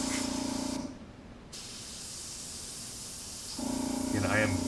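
A paint sprayer lays down black basting paint in short bursts of hissing spray, a steady airy jet near the listener with a quieter pause between bursts.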